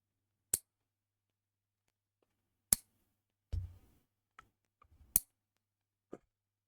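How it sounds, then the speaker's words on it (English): Fingernails are clipped in a quiet room: several sharp, isolated snips spaced a second or two apart, with a faint thump and small handling noises between them. "You gotta cut your nails."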